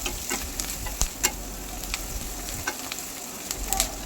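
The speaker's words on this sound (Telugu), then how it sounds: "ఇప్పుడు ఉల్లిపాయలు మంచిగా కలిపేసుకొని అందులో పసుపు వేసుకొని కలిపేసుకోవాలండి" Onions with turmeric are stirred in a pan over a soft, steady sizzle, with sharp clicks and scrapes of the utensil against the pan scattered through it. The sound is quiet and close, with no voices.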